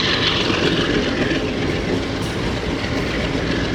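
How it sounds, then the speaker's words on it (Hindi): A G40 diesel locomotive pulls the Shalimar Express in Pakistan, its engine a loud, steady roar with rail clatter as the train accelerates close by. "अब G40 की आवाज़ आ रही है जी।"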